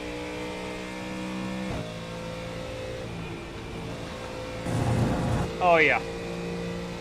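Heard from inside the cockpit, a race car engine from a NASCAR Truck Series or GT3 race holds a steady, harmonic drone, then surges in a sharp rev-up and gear change. A voice briefly exclaims over the engine.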